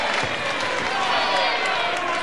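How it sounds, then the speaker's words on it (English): Crowd at a wrestling match in the Pavilion Gardens, Buxton, Derbyshire, a dense, loud roar of cheering and clapping throughout, with a commentator's voice mixed in. "the crowd here at the Pavilion Gardens here in Buxton, Derbyshire, really enjoying this one"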